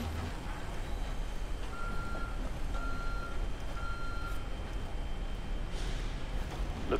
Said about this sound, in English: Looking at a hostile transport truck.